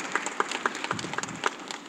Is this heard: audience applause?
yes